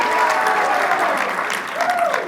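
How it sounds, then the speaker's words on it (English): A crowd at a NYC yeshiva event gives a full round of applause, continuous dense clapping throughout with a voice briefly audible over it. "Let's give him a big round of applause."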